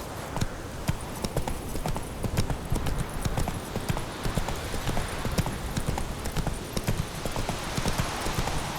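Hooves of Roach, a horse in the video game The Witcher 3, clip-clop in a steady, rapid galloping rhythm throughout, loud and close, with faint surrounding ambience and no speech.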